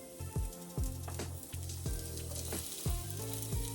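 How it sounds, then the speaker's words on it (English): Chopped onions sizzle in hot olive oil in a skillet on a stove, a steady crackling fry with scattered sharp pops and stirring clatter, close and moderately loud, with no talk over it. "Oh yeah, a little sizzle."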